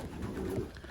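Racing pigeons coo softly in their loft at midnight, a low murmuring call amid faint background hum.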